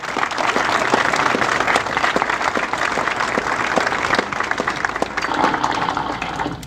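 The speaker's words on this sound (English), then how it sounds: "Governor Martinez, big round of applause." Applause for New Mexico Governor Susana Martinez from an audience at a National Scouting Museum speaker event, a dense sustained burst of clapping at even loudness throughout, with no voices on top.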